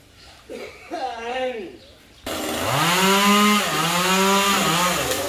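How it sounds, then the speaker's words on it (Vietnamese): A chainsaw cuts a large dầu tree lying against a church roof, starting quietly then roaring loud and close with rising and falling revs as the blade bites, with voices speaking over it. "giờ anh kéo cái máy cưa lên"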